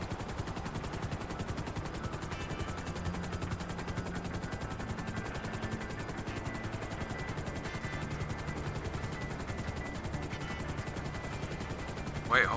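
A helicopter in Grand Theft Auto V, its rotor chopping in a steady rapid pulse at an even loudness throughout, with faint game effects underneath and a brief bump at the very end.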